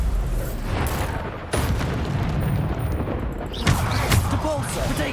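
Bombarda spell blasts in the video game Hogwarts Legacy, heavy booming bursts going off amid chaotic combat effects, loud and close, with voices under them.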